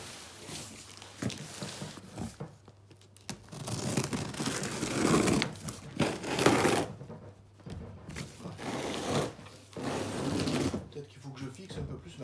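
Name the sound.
opening a parcel package, crinkling packaging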